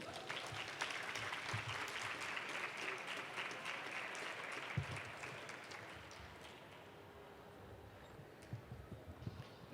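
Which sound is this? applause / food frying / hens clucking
applause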